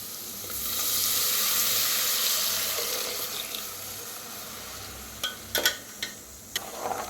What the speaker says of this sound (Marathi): आता ह्याच्यात ओतूया आपण ताक फिरवून घेतलं होतं ते।